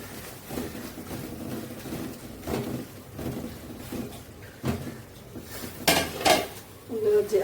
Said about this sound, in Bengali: আলুটা দিয়ে কষিয়ে নিচ্ছি।